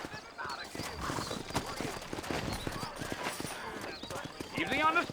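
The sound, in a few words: horses trotting in a video game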